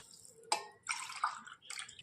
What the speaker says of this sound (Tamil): 6 டம்ளர் தண்ணி ஊற்றிக்கலாம்